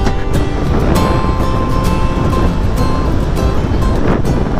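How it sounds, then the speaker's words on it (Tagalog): Sea waves rush and wash along a shore near Manukan in a loud, steady roar with wind buffeting the microphone, continuous throughout without any talk. "Dagat."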